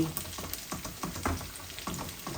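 Garlic and dried fish fry in a pan, a soft, close sizzle with rhythmic stirring scrapes every fraction of a second and no voices.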